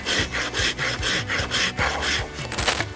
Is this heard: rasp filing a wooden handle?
yes